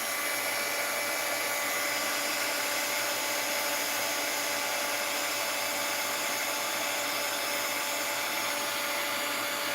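A heat gun blows hot air over an art journal page, a constant loud, even whirring hiss with a fan whine that runs unbroken from start to finish.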